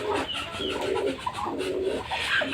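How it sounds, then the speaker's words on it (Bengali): Pigeons coo in a steady, close series of soft, throaty calls kept by a household keeper alongside other birds, with no talk over them. "কবুতরও দেখেন"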